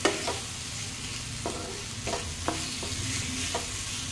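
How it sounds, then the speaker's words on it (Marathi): Masala being stirred and mixed in a frying pan: steady sizzling frying throughout with several distinct scraping stirs of a spoon against the pan, close and clear with no talk. "व्यवस्थित सगळं मिक्स करून घ्यायचं, जेणेकरून याला मसाला सगळीकडनं लागला पाहिजे"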